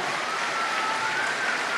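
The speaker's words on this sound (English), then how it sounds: "Give them a big round of applause." Audience applause at a community dance show in a GAA club event, a continuous dense hiss of many hands clapping together, steady and fairly loud throughout.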